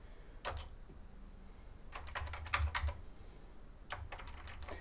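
Keys tapped on an old MSX home computer keyboard, irregular bursts of clicky keystrokes in short clusters separated by pauses, close and fairly quiet, with no talking.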